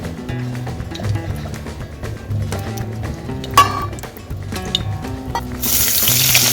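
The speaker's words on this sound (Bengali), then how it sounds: "পেঁয়াজগুলোকে দিয়ে নিয়েছি, একটু লাল লাল করে ভেজে নেব।" Onions dropped into hot oil in a pan, a moderate sizzle with clinks and stirring knocks, the frying growing louder toward the end.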